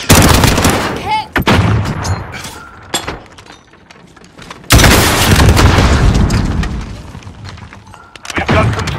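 Gunfire and frag grenade blasts in a Call of Duty Modern Warfare 3v3 Face Off match: loud, close bursts of shots and sharp booms, with a heavy broadband blast near the middle and dense firing continuing after it.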